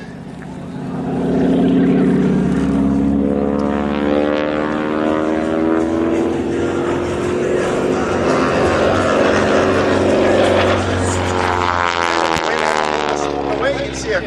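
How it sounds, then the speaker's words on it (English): Harvard T-6 propeller aircraft at an airshow, its radial engine droning loud and steady as it rolls inverted into a split S, the pitch shifting with the maneuver while an announcer talks over it. "Rolling the aircraft now onto its back and into a great big split S."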